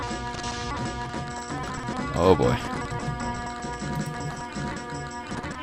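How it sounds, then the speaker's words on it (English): Distorted, stuttering music from the video game Beyond Shadowgate plays with warped, repeating tones, and a brief spoken exclamation cuts in partway through. "excuse the glitched up music that suddenly started sounding"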